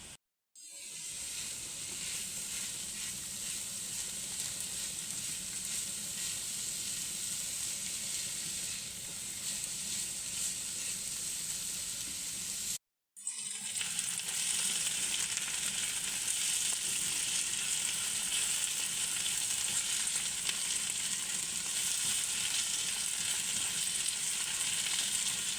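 Onion and a little garlic fry in a pan with a loud, steady sizzle that runs unbroken except for one short gap partway through.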